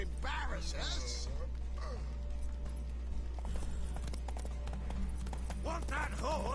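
Hooves of a horse gallop in the Witcher 3 video game during a race, a steady clip-clop rhythm under a low hum, with voices speaking over it.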